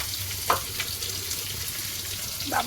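Marinated chicken added to a pan of fried onions gives a steady, close sizzle, with a brief clink near the start and soft scraping toward the end; no voices.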